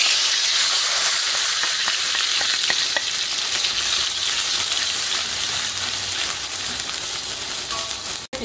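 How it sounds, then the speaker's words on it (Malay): Steady, loud sizzling of a blended garlic, shallot and dried shrimp paste frying in hot oil, with occasional stirring scrapes, continuous throughout and no voices. "Kita goreng dia sampai wangi dan garing."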